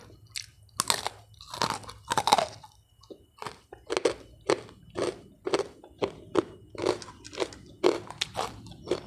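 Crunchy dried fruit and vegetable snacks chewed close up, a steady run of crisp, crackling bites and grinding chews repeating through the whole stretch with no talk.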